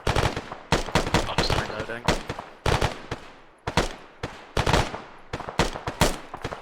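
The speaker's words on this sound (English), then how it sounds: "Machine gun on the roof of the factory." Machine gun fire in ArmA, a rooftop gun on a factory rattling out repeated loud bursts of gunfire with short gaps between them, with no voices over it.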